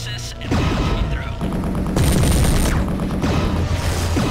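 Explosions and gunfire rumble and crack in the mech combat game MechWarrior 3, dense overlapping booms and rapid shots filling the whole stretch at high volume.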